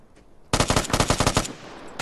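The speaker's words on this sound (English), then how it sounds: "You're shooting a rock, dude." Rapid automatic gunfire in a video game aimed at a rock: one loud burst of about a dozen quick, evenly spaced shots lasting roughly a second, then a quiet tail, with no talking.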